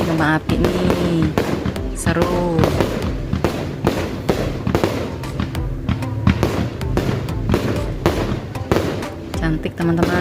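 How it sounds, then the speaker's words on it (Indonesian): Rapid crackling fireworks burst and pop continuously at a campground, loud and dense, with voices talking faintly underneath. "kembang api nih, seru."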